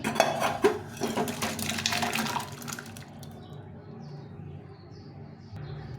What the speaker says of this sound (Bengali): ডালটা এখন ঢেলে নেব